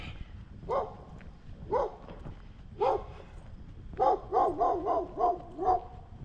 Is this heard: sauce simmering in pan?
no